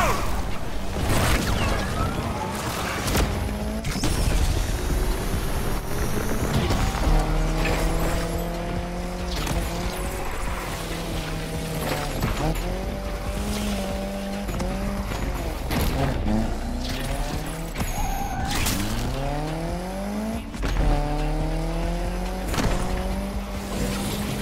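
Race cars revving and tires squealing in the street-racing game Need for Speed Unbound, with rising and falling engine pitch through repeated gear shifts, loud and continuous throughout under a music track.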